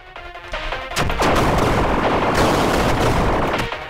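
Rapid gunfire from a Godot-made video game, a loud sustained burst of overlapping shots and booming blasts lasting a few seconds, with no talking.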